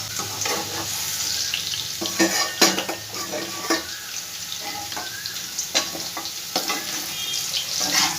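Potatoes fry in a pan for a vegetarian banana-flower dish, a continuous close sizzle broken by frequent clinks and scrapes of a spatula stirring against the pan.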